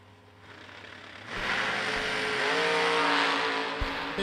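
Drag race launch at the Twin Fifties between a Nova and a fourth-generation Camaro: quiet idle, then loud roaring engines surging at full throttle and sustained for several seconds.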